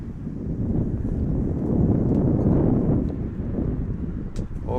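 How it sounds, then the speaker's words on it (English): Wind gusting outdoors at an overcast amateur baseball game between Nova Scotia and Newfoundland, a loud, low, rumbling rush across the microphone that swells in the middle and holds steady throughout. "Wind once again picking up."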